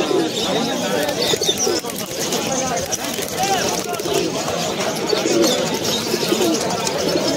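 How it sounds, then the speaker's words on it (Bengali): Pigeons coo amid the busy hubbub of the Uluberia pigeon market, their calls mixing with crowd babble and people talking nearby in a dense, continuous din. "দেখুন কিছু পায়রা এসছে উলুবেড়িয়া হাটে।"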